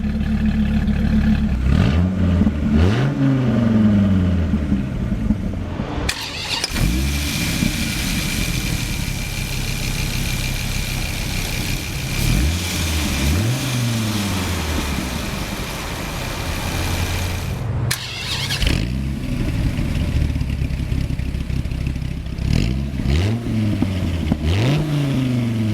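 A 2003 Dodge Viper SRT-10 V10 engine cranks over, then roars and revs repeatedly, its pitch sweeping up and falling back between idling stretches, loud and close throughout.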